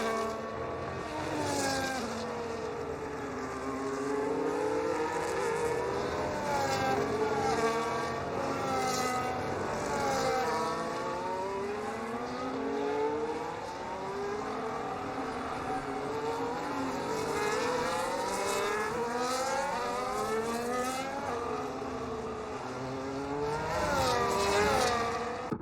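Formula 1 cars racing on the final lap, Sainz chasing Russell's Mercedes toward turn 12: several high-revving engines whine and sweep up and down in overlapping pitch, a loud, steady roar throughout with no voices.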